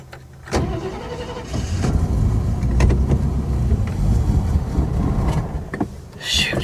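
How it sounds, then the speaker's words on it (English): A 1967 AMC barn-find car rolls off a trailer under its own power, its engine rumbling steadily up close with a few knocks and rattles, and people briefly voice in the background. "We drove it off the trailer!"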